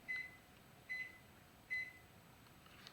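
Electronic timer gives three short high-pitched beeps, evenly spaced about a second apart, faint and clean over a quiet room hum.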